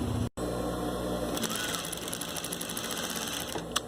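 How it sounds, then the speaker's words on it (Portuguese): Sewing machine running a straight seam along the edge of a hooded baby towel, stitching steadily and close up after a brief stop at the start. "vou passar uma costura na reta mais uma vez"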